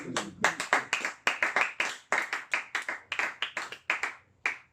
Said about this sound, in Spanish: Démosle un aplauso a mi Señor.